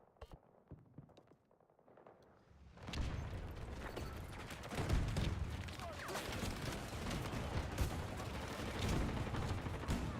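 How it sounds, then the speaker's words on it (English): Grenade explosions and gunfire in Battlefield's Rush game mode, quiet at first, then dense, loud bursts of rapid shots and booming blasts that continue without a break. "Killed by so many grenades."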